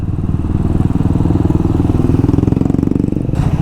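Triumph Speed 400 motorcycle engine pulling in third gear, a loud, steady, throbbing exhaust note with rapid regular pulses building smoothly, heard close from the rider's position, no talking.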